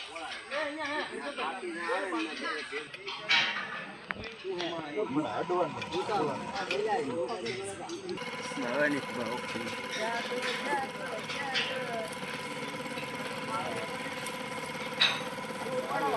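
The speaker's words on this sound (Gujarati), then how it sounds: "ચાલો સિલાઈ કરી નાખી ફટાફટ" A sewing machine stitches cloth quickly, a steady mechanical whirring and rattling that runs throughout, with a person talking over the first half.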